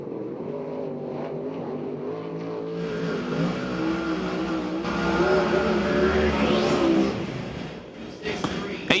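USAC/CRA sprint car number 98 racing at the So Cal Fair track in Perris, California, engine droning and revving up as it passes, with an announcer talking over it throughout.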